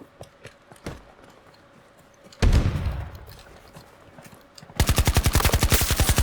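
AK rifle fire in a video game: a single heavy shot with a long rumbling tail, then a rapid automatic burst of evenly spaced loud shots at the end, close, with faint clicks and steps before.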